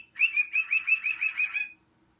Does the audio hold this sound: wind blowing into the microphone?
no